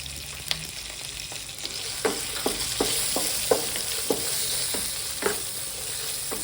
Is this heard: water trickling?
no